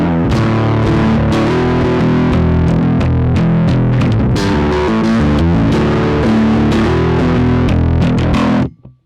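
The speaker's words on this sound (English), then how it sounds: "And now let's try that with the Omega distortion." Sterling by Music Man Ray bass played through an Omega distortion, a thick, loud, continuous gritty riff of plucked notes with a heavy saturated tone, stopping abruptly at the end.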